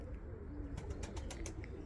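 Tumbler pigeons kept as play birds coo softly at a distance, with a few short chirps rising above a steady, low background hum.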